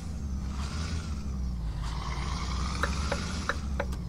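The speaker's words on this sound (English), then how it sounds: "It's got a really nice startup sound." A Mercedes-Benz Actros truck in the video game Euro Truck Simulator 2 runs with a low, steady engine rumble and a rising whine. Short clicking ticks like a turn signal come near the end.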